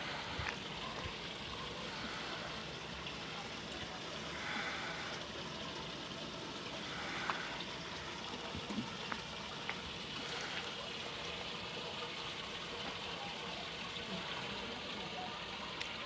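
Water pours steadily from a massive leaking water main in Sant'Elia, Cagliari, a continuous broadband rush that stays at an even level throughout, with faint voices now and then.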